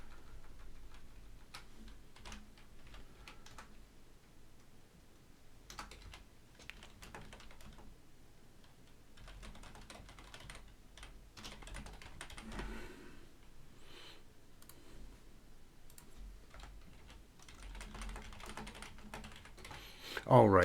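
Keys clack on a computer keyboard in quick irregular bursts through much of the stretch, close and moderately quiet, with faint speech in places.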